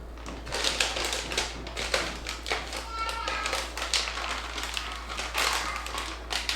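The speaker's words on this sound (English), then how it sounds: "Firmly hold the top of the pouch and shake for 30 seconds" Water sloshes inside an MRE pouch shaken hard by hand, giving a steady, close run of crinkly, tapping plastic rattles and splashes that lasts several seconds with no voices.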